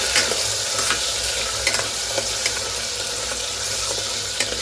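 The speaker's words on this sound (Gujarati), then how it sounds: "ચાલો રીંગણા ભરે છે ત્યાં સુધી બટેટાને થોડીક વાર હલાવીએ તો થોડીક વાર એને સાતરી લઈએ" Potatoes being stirred and sautéed in oil in a pan, with a steady broadband sizzle and scattered clicks of the spoon against the pan, close and continuous, no talking.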